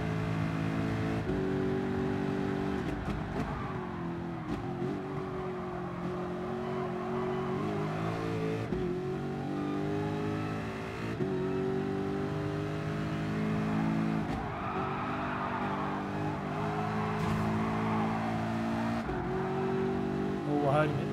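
Race car engine in Gran Turismo Sport revving hard and continuously with shifting harmonic pitch and occasional tire skid, loud and sustained throughout.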